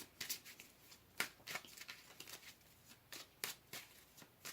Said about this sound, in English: So let's pull another card here.